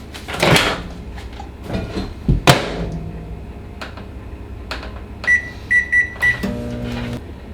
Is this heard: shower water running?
no